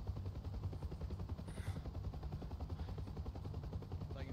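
Rapid gunfire striking a helicopter in DCS World, heard as a fast, steady rattle of impacts over the low, pulsing thrum of rotor blades, close and continuous, with no talking.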